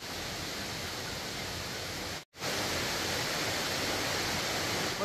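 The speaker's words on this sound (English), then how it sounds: "Cliffs are pouring water down them, so I'm already getting wet and I'm not yet at the waterfall." Water streams steadily down cliff faces along the Piney Falls trail near Grandview, Tennessee, making a dense, continuous rushing hiss that breaks for a split second and then resumes unchanged.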